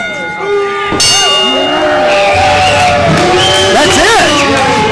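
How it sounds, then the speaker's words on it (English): A ring bell clangs once at a professional wrestling show after the pinfall, its metallic ring lingering while a crowd murmurs and commentators talk over it. "Ring the bell."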